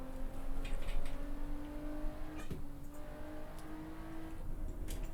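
Race car engine in the Assetto Corsa sim holding against its rev limiter at Silverstone, a steady buzzing drone with faint stuttering, fairly quiet and continuous with no talk.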